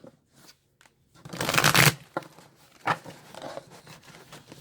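A deck of tarot cards being cut and shuffled by hand: a short riffling burst, then a few softer card slaps and rustles, close and fairly quiet.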